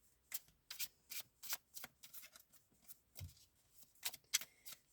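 A small tarot deck is shuffled by hand, a steady run of quick papery riffles and card slaps, close and fairly soft, with no voice over it.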